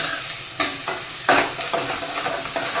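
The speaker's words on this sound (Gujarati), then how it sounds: "પ્યાસને હજી આપણે હલાવી રાખીએ, હજી બ્રાઉન જેવા થઈ જાય" Onions sizzling in a pan for a country chicken curry, with a spoon scraping and stirring in a few distinct strokes over a constant frying hiss, close and fairly loud.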